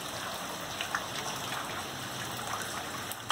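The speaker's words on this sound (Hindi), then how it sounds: "ये देखिए, हर आधे घंटे में पानी निकाल रहे हैं, फिर भी 1000 लीटर पानी हर आधे घंटे में।" Water gushing and splashing steadily inside a flooded railway workshop, a continuous loud rushing wash that stays even throughout with no speech.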